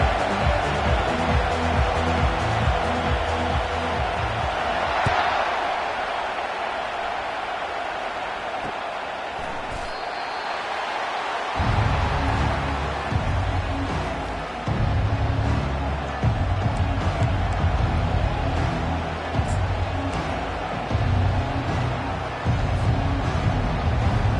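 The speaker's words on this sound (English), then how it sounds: "This crowd trying to show them what it's going to be like all day in this house." A crowd roars at the opening kickoff of a Tigers football game, with a broad, loud, sustained wash of cheering that briefly dips and then surges again, a commentator talking over it.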